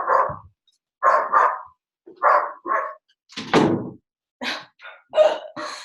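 A dog barks repeatedly indoors, about a dozen close, loud barks in irregular bursts of one or two, with short silences between them.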